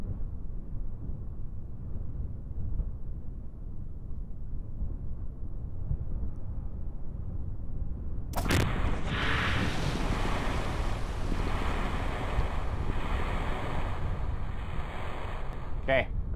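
A spacecraft splashes down on water in the video game Kerbal Space Program: a steady low wind-like rush shifts to a brighter, louder surge of splashing water and spray about halfway through, then carries on.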